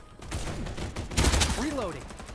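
Gunfire in the battle-royale video game Farlight 84: scattered distant shots, then a louder burst of rapid fire in the middle, with faint chirping game effects trailing after.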